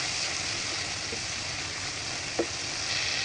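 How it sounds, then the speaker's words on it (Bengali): Vegetables for khichuri are sautéed in a pan with salt, turmeric and chili powder, giving a steady hissing sizzle throughout with a couple of faint stirring knocks, no voices. "দিয়ে দেবো পরিমাণ মতো লবণ, সামান্য পরিমাণে হলুদ, মরিচের গুঁড়ো দিয়ে ভালোভাবে কষিয়ে নেব"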